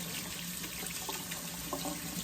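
Cold water runs steadily from a kitchen tap, a constant hissing splash that stays even and unbroken from start to finish, with no voices over it.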